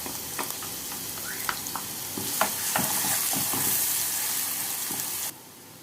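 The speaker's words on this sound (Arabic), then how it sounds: "وبعدين نحط البصلايه برضو تتشوح." Onion sautéing with garlic in a pan for chicken kofta, a close sizzle and hiss broken by scraping stirs, then a sudden cut to quiet.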